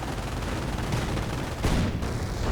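Machine gun fire rattles in a WWII real-time strategy battle game, a dense continuous burst of shots mixed with explosions and battle noise, loud and sustained throughout.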